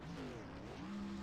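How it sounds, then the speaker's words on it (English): SK Modified race car at Stafford Motor Speedway doing a burnout, a loud sustained engine roar with shifting revving tones and tire noise, steady throughout. "this is not new to Ryan Bean doing burnouts, at least in this car."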